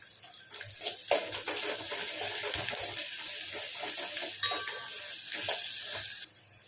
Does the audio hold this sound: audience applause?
no